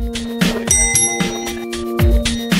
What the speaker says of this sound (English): Oh, ring the bell, Alex.